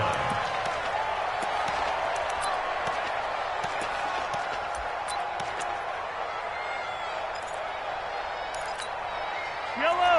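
Broadband roar of a home stadium crowd cheering during a playoff American football video game match with the Kansas City Chiefs, a steady loud wash of noise throughout with a swelling burst near the end.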